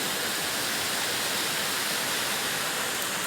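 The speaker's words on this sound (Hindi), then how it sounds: "तो ये देखिए यहाँ ऊपर से गिर रहा है ये पानी, यहाँ से गिर रहा है ये पानी।" Water pours down from high on a mountain in a steady, dense roar of falling spray, unbroken and fairly close, with no voices.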